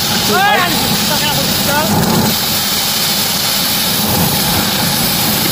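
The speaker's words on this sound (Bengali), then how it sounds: "মোটর চালিত ধান ঝাড়া মেশিন, ওটা মোটর আছে, মোটরে ধরছে" A motor-driven paddy threshing machine runs loud and steady outdoors at rice harvest, its continuous engine-like drone filling the whole stretch while voices sound over it.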